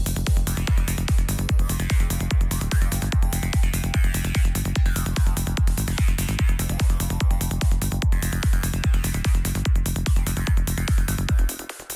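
Gritty, nasty FM synthesizer patch pulsing in a steady rapid rhythm of harsh, buzzy repeated notes, loud and dense throughout before cutting off abruptly near the end; no voices.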